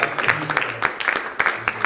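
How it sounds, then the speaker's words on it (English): An audience at a startup pitch event breaks into applause, a spread of sharp, uneven hand claps layered into a brief, fairly loud patter. "they deserve a huge round of applause because they're going first"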